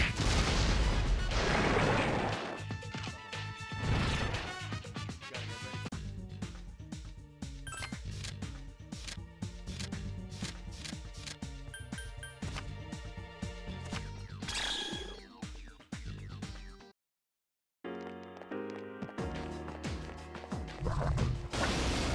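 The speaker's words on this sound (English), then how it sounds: "Here's our chance for an all-out attack." An all-out attack in the video game Persona 3 Portable: a dense flurry of loud impacts, crashes and clattering hits with music underneath, breaking off in a brief silence before the battle sounds resume.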